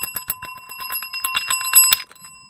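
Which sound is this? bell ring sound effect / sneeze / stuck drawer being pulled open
bell ring sound effect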